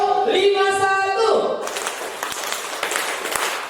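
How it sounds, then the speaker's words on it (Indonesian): A group claps together at an Indonesian school gathering; a sustained, moderately loud patter of applause takes over after a short stretch of voices at the start. "tepuk tangan untuk Bapak Ibu semuanya"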